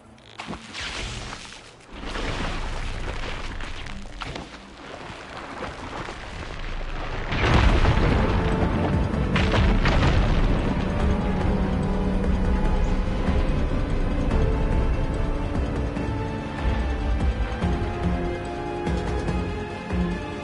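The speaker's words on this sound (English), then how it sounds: "Igniting that fire gleam should clear it." In the game Horizon Forbidden West, a fire gleam is ignited to clear rubble. A loud, deep explosion erupts, followed by a long, heavy rumble of debris falling and settling.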